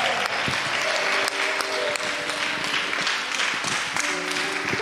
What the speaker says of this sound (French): Ton applaudissement là est petit.